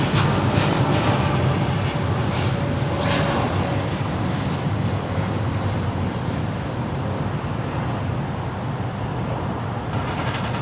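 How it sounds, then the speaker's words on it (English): An American Airlines Boeing 787-8 Dreamliner departs Los Angeles International Airport toward Chicago O'Hare, a steady, loud broadband jet roar sustained throughout with no talk. "Departing to Chicago O'Hare. That was an American Airlines Boeing 787-8 Dreamliner"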